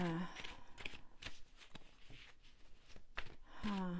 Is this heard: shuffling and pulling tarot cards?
yes